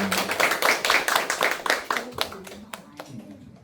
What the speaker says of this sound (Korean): 오늘 박수로 우리 문소희 선생님을 소개하겠습니다